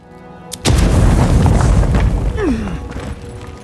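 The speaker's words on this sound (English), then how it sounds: "That's just a regular old explodey wall. So we're gonna just go to a regular old grenade." A grenade in the video game Avowed blasts through a breakable wall with a sudden loud boom, then a long rumbling roar of debris that slowly fades.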